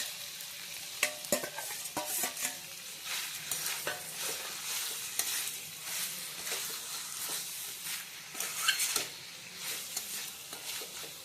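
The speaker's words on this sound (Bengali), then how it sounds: "মাছের মাথা দিয়ে ভালোভাবে মিশিয়ে নেওয়া হচ্ছে" A Rui fish head is stirred into a sizzling pot of murighonto, with a spoon scraping and clattering in irregular strokes over a steady background fry, fairly quiet and close.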